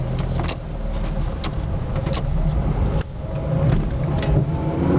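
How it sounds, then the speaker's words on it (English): A Fiat Cinquecento drives along at steady speed, its engine hum and road rumble continuous and close, with a few faint clicks and knocks from the cabin over bumps. "I'll just take the car for a little drive."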